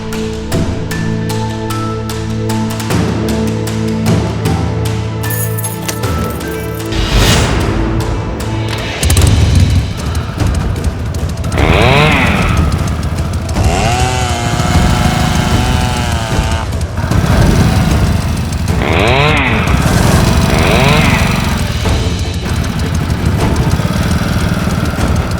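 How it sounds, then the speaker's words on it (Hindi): Motorcycle starting up and running, first a steady idle hum with tonal engine lines, then a louder rough rumbling with rising and falling revs under music-like tones. "बाइक स्टार्ट कीजिए।"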